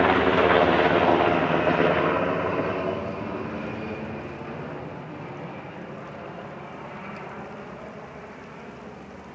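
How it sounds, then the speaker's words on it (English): A military helicopter passes close overhead outdoors, a loud broadband rotor roar that peaks at the start and then slowly fades as it moves away, with no talking. "other than the helicopter that's coming right over"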